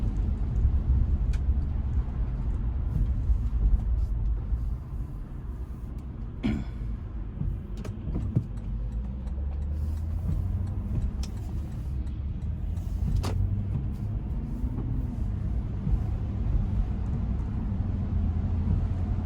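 A truck on Toyo Open Country A/T III tires drives along a partly flooded back road, its engine and tires making a steady low road rumble throughout with a few faint knocks and splashes.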